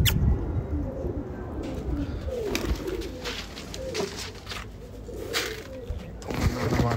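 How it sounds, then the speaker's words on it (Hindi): Pigeons cooing near released birds outdoors, soft repeated low coos scattered through the stretch amid wing flutters and background noise, with a voice speaking briefly. "उधर कुछ कबूतर उड़ा दिए"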